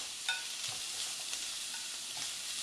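A steady, gentle sizzle of onion, peppers and garlic frying in a pan, with faint stirring clicks scattered through.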